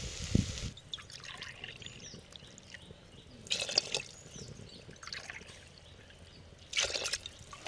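Water is poured into a pot of soaked rice, a double measure for brinji rice, in short faint trickling bursts separated by quieter pauses at a kitchen.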